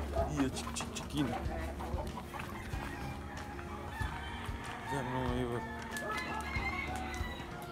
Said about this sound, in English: Yeah, chicken.